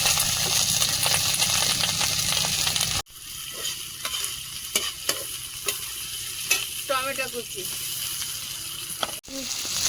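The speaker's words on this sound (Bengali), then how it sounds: "ওই তেলে দিয়ে দিচ্ছি আদা বাটা ফেটো করা রসুন পেঁয়াজ কুচি" Ginger paste, crushed garlic and chopped onion sizzle and crackle in hot oil in a home kitchen, a loud continuous frying hiss with stirring scrapes and a clatter partway through, and a voice talking under it.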